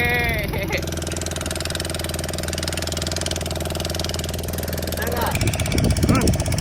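A boat engine runs steadily during a ride out to an island off the beach at Vizag, a constant low mechanical drone close by, with voices heard near the start and end.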